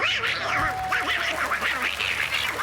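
Loud, close quacking from a toy duck repeats in quick bursts for a few seconds.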